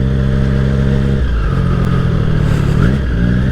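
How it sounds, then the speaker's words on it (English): A black Audi R8 passes close by with a steady engine drone, its pitch shifting as it moves past, heard over surrounding traffic and motorcycle engine noise. "A beautiful Audi R8 in black."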